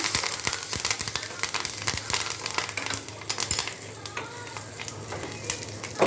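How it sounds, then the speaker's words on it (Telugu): Curry leaves and turmeric tempering for mango pickle sizzles and crackles steadily in a hot pan, close and fairly loud, with irregular pops and stirring scrapes throughout and no talk. "తిరగమూత వేసేసుకొని ఇలా పచ్చళ్ళలో కలిపేసుకోవడమే"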